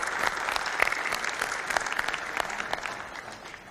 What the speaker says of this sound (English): let's give you all a huge round of applause and welcome you all